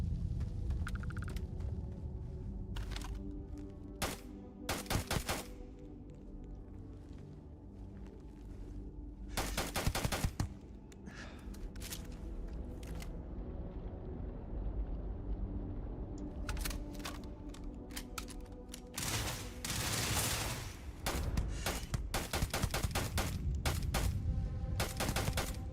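Companion firing guns in the video game Starfield: repeated bursts of rapid gunfire and single sharp shots over a low rumbling background, with a quieter lull mid-way before heavy, dense firing resumes toward the end.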